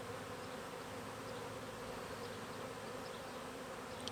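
Honey bees swarming around an opened hive during an inspection make a dense, continuous buzzing drone, fairly quiet and steady, with no talk.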